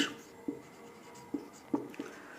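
Handwriting a short sentence, likely in a classroom lesson: soft, faint pen or chalk strokes with a few brief taps spaced irregularly, close and quiet with no talk.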